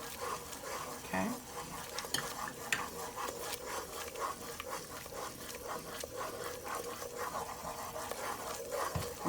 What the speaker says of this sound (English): Just stir it till it all dissolves very smoothly.